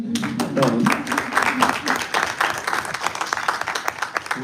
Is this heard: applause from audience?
yes